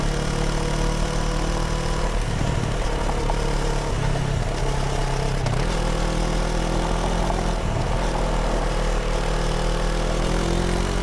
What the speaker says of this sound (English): Let's test this adventure bike and see what it's made of.